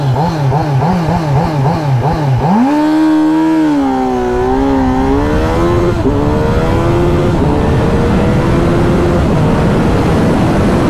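A Kawasaki Z900 motorcycle engine revs hard and loud, then a gear shift drops the pitch before it climbs steadily again as the bike accelerates through the gears at speed, with constant wind roar.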